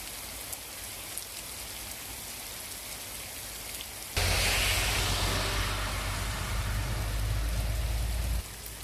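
Heavy rain falling in forest in the Nilgiris, Gudalur area: a dense, steady hiss of downpour that suddenly grows much louder and heavier partway through, with a deep rumbling roar underneath.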